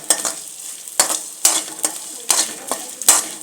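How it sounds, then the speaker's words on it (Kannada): Ghee frying in a pan while peanut sweet mixture is stirred, with repeated scraping strokes of a spoon against the pan at a steady rhythm over a constant close sizzle. "ಇದು ಚೆನ್ನಾಗಿ ಸ್ವಲ್ಪ ಫ್ರೈ ಆಗಲಿ"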